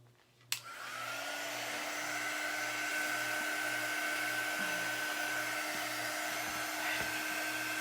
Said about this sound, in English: now I'm going to dry it, and I'm going to dry the board